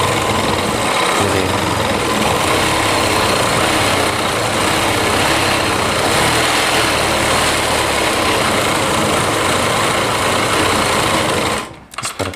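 Sewing machine running steadily as it stitches lace onto a heavy-work Rajputi lehenga, a loud continuous whirring hum that stops abruptly near the end.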